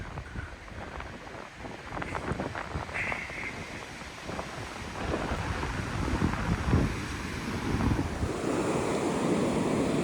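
Surf breaking and washing along a beach at Bournda National Park, with steady wind buffeting the microphone; a continuous close roar that swells louder toward the end, no voices.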